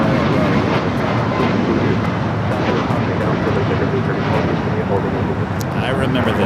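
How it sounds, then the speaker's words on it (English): A Boeing 737 rolls down runway 25 right at LAX, a loud, steady broadband engine roar holding throughout, with talk faintly audible beneath it. "737 now rolling down at 25 right?"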